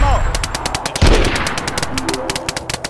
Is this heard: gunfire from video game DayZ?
yes